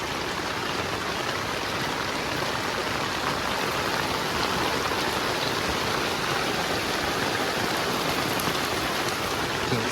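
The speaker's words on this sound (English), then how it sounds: "Definitely raining out here. Raining pretty good." Steady, heavy rain patters densely on a surface at a campsite, a constant loud hiss with no pauses.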